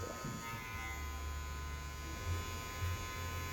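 Electric hair clippers buzz steadily during a haircut with a fade, a close, even motorized hum with slight shifts in pitch as the blade moves, quiet and continuous, no voices.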